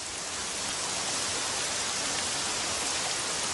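Steady, dense rain pours down, a constant close hiss of drops on surfaces without pause or voices.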